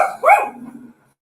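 Small Shih Tzu dog giving a single sharp, high bark up close indoors, then a short trailing whine-like tail before silence.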